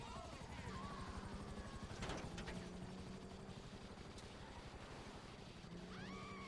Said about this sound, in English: We got helicopters on us